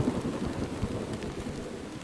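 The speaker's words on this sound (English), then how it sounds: "I just got spooked by lightning" Rain pours steadily while low rumbles of thunder roll beneath it, a dense, continuous storm wash heard at moderate volume with no voices.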